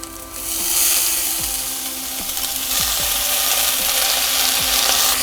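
Washed moong dal tipped into onions frying in a pan, giving a steady sizzle with a few scraping knocks from stirring, fairly close and unaccompanied by talk.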